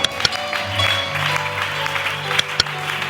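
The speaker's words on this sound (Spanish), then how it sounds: "Fuerte ese aplauso para el Señor, fuerte, fuerte." A church congregation claps steadily and loudly in a continuous wash of applause, with a couple of sharper accents standing out.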